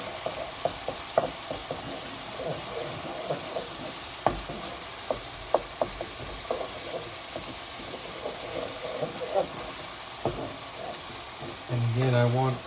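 Lemongrass curry paste fries in a pan with a soft continuous sizzle, broken by scattered clicks and taps of stirring, and a louder burst of bubbling near the end.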